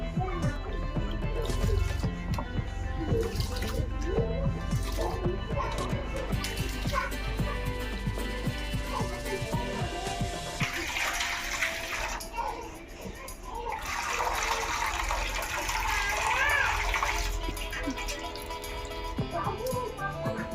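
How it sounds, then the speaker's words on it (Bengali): Rice being washed by hand in water for a village-style recipe: continuous sloshing, swishing and dripping, close up, with light background sounds and occasional voice. "চালটা দেখেন ভালোভাবে ধুয়ে নিতেছি,"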